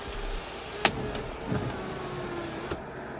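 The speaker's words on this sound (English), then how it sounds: "When the sunroof is closed and you push up lightly on the button, the tilt feature will activate" Sunroof motor of a 2007 BMW X5 E70 3.0si whirs steadily inside the cabin, with a few soft clicks and a thump as the glass tilts open; close and fairly quiet, with no talking.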